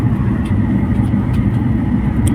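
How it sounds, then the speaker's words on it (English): Boeing 737-800 jet engines powered up on the runway before takeoff from Islamabad, a steady, loud low rumble and roar heard from inside the cabin, continuous without talk. "Engine is powered up,"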